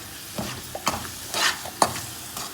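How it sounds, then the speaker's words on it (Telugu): Masala of salt, red chilli powder, turmeric and fenugreek powder frying in a pan for Andhra-style bitter gourd pickle, with a soft steady sizzle broken by several scraping stirs at uneven intervals, close by and without talk. "ఇలా మొత్తం మసాలా ఫ్రై అయినాక"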